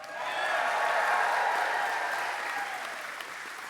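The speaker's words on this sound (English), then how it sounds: "Let me hear a big cheer." A graduation convocation crowd claps and cheers together in a large hall, a dense, sustained wash of applause that swells and then eases off slightly toward the end.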